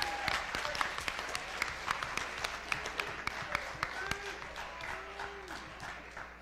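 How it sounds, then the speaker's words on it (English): Crowd applause at a high school talent show, dense clapping from a full audience with a few sharper claps standing out, steady and loud throughout. "If we could have another huge round of applause for Drake and all the acts that came out today"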